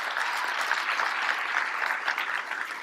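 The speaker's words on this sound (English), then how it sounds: "So give him a round of applause." Gala audience at an Urban League awards dinner giving a steady, sustained round of applause, full and even throughout.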